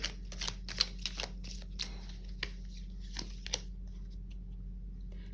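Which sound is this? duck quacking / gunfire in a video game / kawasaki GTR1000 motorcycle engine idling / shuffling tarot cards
shuffling tarot cards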